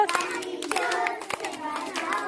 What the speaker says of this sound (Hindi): ताली जोर से बजाओ